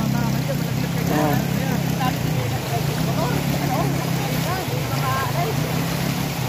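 Motorbike crossing floodwater, a steady engine drone mixed with splashing and rushing water throughout, loud and close, with voices faintly underneath.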